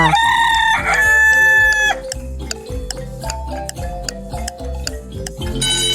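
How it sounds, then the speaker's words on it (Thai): A rooster crows loudly over a backing of music with a steady ticking beat. "เฉลยเสียงของไก่ค่ะ"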